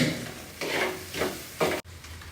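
Chicken fried rice stirred in a pan, with three close, scraping sizzle bursts in an uneven rhythm before an abrupt stop.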